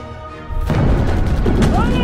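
A war film trailer set in the Alpine mountains fills with gunfire and a heavy explosive boom, which cuts in suddenly and holds as a loud, sustained roar with voices and score mixed in.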